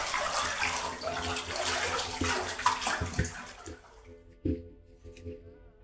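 In a video game, a bathtub fills from a running tap with a steady splashing gush that fades out, followed by a few isolated drips and small knocks in near silence.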